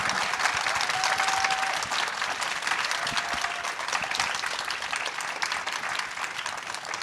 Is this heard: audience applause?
yes